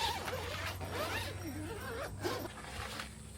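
A zipper is drawn open on a urethane mosquito-net window fitted to the trunk of a Kia Ray set up for car camping, a close scratchy rasp in several quick pulls over a low steady hum.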